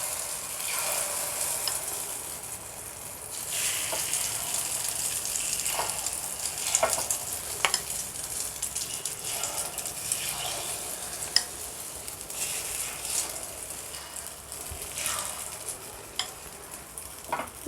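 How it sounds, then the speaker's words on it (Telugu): Egg batter sizzling in an oiled paniyaram pan, a steady close hiss of frying broken by scattered sharp pops and spatters throughout. "ఇప్పుడు మనం ఇందులోకి ముందుగా రెడీ చేసి పెట్టుకున్న మిశ్రమాన్ని ఇలా వేసుకోవాలి"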